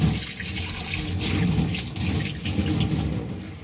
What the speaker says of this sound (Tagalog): Ayan tubig oh.